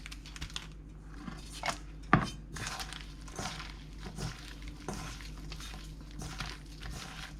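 Raw shrimp being tossed and coated in cornstarch in a home kitchen, soft irregular rustling and light taps with a sharp click near the middle, quiet and close.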